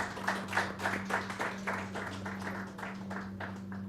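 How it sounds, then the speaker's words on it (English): An audience claps through a round of applause at a Marathi television news channel launch event, a sparse, moderately loud patter of hand claps that gradually thins and fades over a low steady electrical hum. "a huge round of applause"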